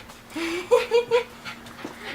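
A pet dog pants indoors in a few quick, breathy puffs, close to the microphone and fairly soft, with faint whimpering hints, and no talk over it.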